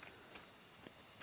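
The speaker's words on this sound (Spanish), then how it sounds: "los grillos" Crickets chirp at night around a rural yard, a faint, steady high-pitched trill running continuously with soft scattered rustles beneath.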